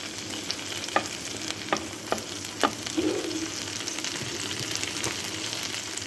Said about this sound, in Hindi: ये देखो बस थोड़ा सा मैं मक्खन का तड़का लगा रही हूँ।